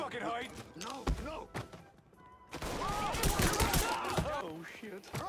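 Gunfire in the Mafia III video game, with sharp shots and a dense cluster of rapid fire after a brief lull, mixed under frantic shouting voices.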